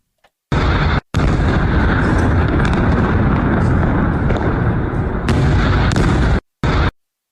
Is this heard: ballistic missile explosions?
yes